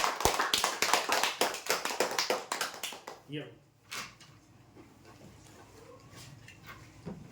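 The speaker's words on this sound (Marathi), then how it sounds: "जोरदार टाळ्या होण्यासाठी" Applause for the final winner of a weekly prize draw: a burst of claps that is dense for about three seconds, then thins into a few scattered claps, with voices speaking over the fading end.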